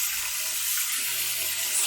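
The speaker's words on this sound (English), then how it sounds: "give them a rinse in cold water here." Cold tap water runs steadily over starchy food being rinsed in a kitchen sink, a close, continuous splashing hiss with no talk.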